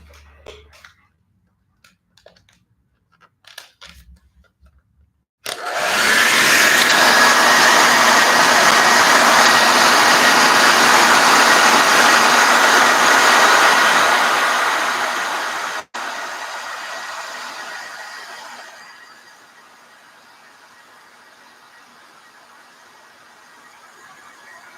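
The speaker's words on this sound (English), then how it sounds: "hair dryer." A hair dryer switches on with a loud whooshing roar, drying paint for about ten seconds, then winds down to a softer hum before stopping.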